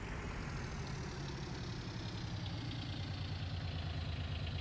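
A tractor engine idles in Farming Simulator 19, a steady, continuous low rumble with a throbbing mid-range hum that holds evenly throughout, with no one talking.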